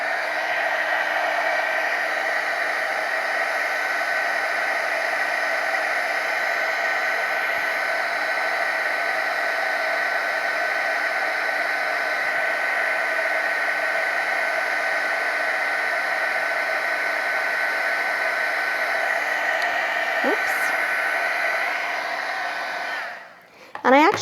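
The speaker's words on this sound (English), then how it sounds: "what I'm going to do is take a heat tool" A heat tool blows steadily to set silver embossing powder on a tag, a loud, even hair-dryer-like whine and rush that runs unbroken for over twenty seconds before cutting off with a click.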